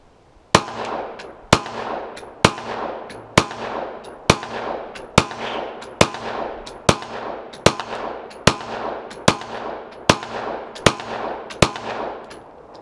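German-made guns fire modern ammunition in about thirteen sharp, loud, close shots at a steady pace of roughly one per second, each followed by a short ringing decay.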